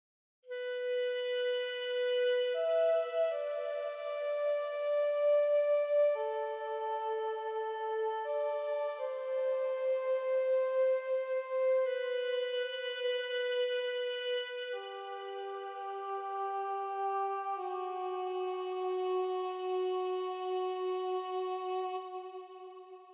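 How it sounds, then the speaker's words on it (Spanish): A flute plays a slow, sustained melody with added reverb giving it space, smooth legato notes stepping through a phrase for about twenty seconds, steady and fairly quiet, with no voices. "he utilizado esta flauta de acá y también le agregué un poquito de reverb para darle más espacio"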